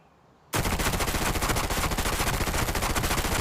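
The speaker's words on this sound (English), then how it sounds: "First, I'm going to shoot over here and see how it performs." An MPX fires a sustained, rapid automatic burst at a shooting range in the video game Arena Breakout, loud and close, starting abruptly after a brief quiet and continuing with evenly spaced shots.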